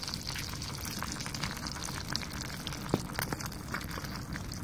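Food frying and sizzling on top of a custom rocket stove, a steady crackling hiss with small pops and a faint roar of airflow underneath, no talk.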